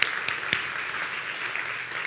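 Audience at the Amsterdam launch event for the Matter smart home standard giving a brief round of applause for the speakers, steady massed clapping with a few sharper individual claps standing out.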